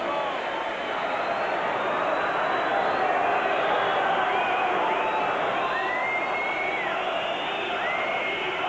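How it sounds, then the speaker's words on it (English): A football crowd at an Everton versus Leeds United match in 1994/95 sends up sustained whistling across a dense stadium roar, with a commentator talking over it. "Crowd whistling for it to end as if there was only 1 goal in it"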